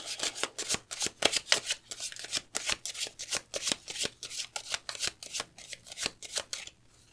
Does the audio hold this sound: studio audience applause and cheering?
no